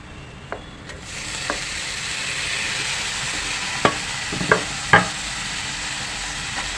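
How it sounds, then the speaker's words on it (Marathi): Onion and tomato sautéing in a pan over a high gas flame, a steady sizzle and hiss with a few sharp spatula clicks and stirring scrapes scattered across the moment, no voices. "आणि आता हे गॅसचे फ्लेम फास्ट करून कांदा आणि टोमॅटो चांगला परतून होते"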